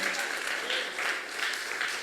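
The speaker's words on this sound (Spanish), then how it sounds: "¿Le puedes dar un aplauso al Señor?" During a sermon, a church congregation gives a brief, loud wash of steady applause that swells slightly in waves throughout.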